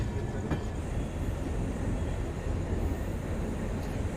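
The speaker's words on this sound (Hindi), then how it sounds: "हमारी ट्रेन जा रही है प्लेटफॉर्म नंबर 4 पर।" Ramnagar Dehradun Express on its inaugural run rolling toward platform 4 at a station, a steady broadband rumble of moving rail cars with faint wheel clatter, continuous and fairly loud throughout with no talking.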